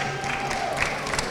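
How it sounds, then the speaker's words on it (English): An audience at a World Day against Trafficking in Persons event claps steadily, a dense patter of many hands with no voices. "Let's give a round of applause to one of our groups here today"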